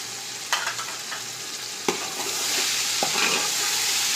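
Tomatoes with red chili, turmeric and salt fry in a pot for mutton pulao, a steady sizzle punctuated by sharp clinks of a spoon against the pot, growing louder and hissier toward the end.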